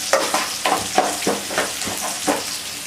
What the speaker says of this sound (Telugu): పప్పు అండ్ పల్లీలు అయితే ఫ్రై అయిపోతున్నాయండి